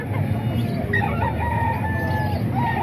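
A White Hatch gamefowl rooster, about 11 months old, crows in a long drawn-out call over a busy bed of clucking and other fowl noise, close and fairly loud with no talking.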